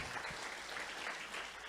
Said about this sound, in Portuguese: Aplaude a Deus, aplaude.